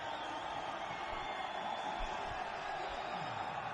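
Steady roar of a cricket crowd at a Test match in Multan, Pakistan versus England, a continuous broad wash of cheering and noise held at an even level throughout.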